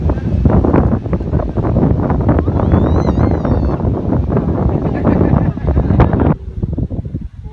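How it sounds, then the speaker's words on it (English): Loud, gusty wind buffets the microphone in a steady roar, with a brief high whistle partway through before it suddenly drops off near the end. "it gets extremely windy."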